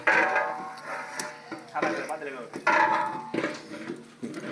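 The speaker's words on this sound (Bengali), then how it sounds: "রান্না শুরু হয়ে গেছে গা।" Pots, pans and metal utensils clatter and scrape during cooking for a club feast, a busy run of knocks and clinks close by, with people talking throughout.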